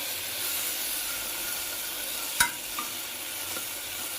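Vegetables frying in a pan with green chillies, beans, peas, tomato and capsicum, giving a steady close sizzle and hiss throughout, with a brief stirring clatter midway.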